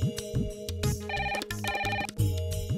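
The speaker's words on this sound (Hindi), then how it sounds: "रूपा का ही फोन होगा।" A telephone in a home rings with a clear, repeating electronic tone in short pulsed bursts, loud and close, with no voices over it.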